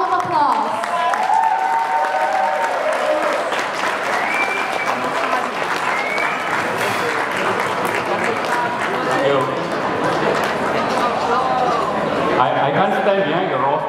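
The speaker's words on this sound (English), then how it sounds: "Let us give him a round of applause." Sustained applause from a wedding reception audience welcoming the bride's father to give a speech, steady dense clapping for the whole stretch with crowd chatter and voices mixed in underneath.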